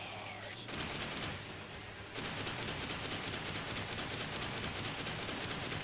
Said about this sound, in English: Keep shooting. You can shoot as you're running away.